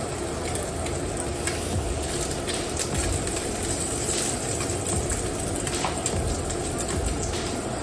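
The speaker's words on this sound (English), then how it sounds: "we're gonna let this sear on the other side for a minute as well" Food sears in a hot pan in a restaurant-style kitchen, a steady close sizzle and crackle running through with no pauses and no one talking.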